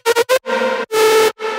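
A dry synth lead patch from the Vital synthesizer with no effects plays a short melodic phrase of bright, buzzy notes: three quick stabs followed by longer sustained tones, loud and isolated.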